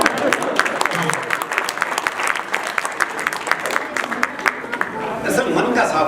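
An audience at a comedy performance claps in a lively, rhythmic burst, with individual sharp claps audible amid crowd noise, and voices come through underneath.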